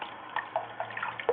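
An Indian Ringneck parrot splashes in bath water, giving small irregular splashes and drips at close range, with a brief louder splash near the end.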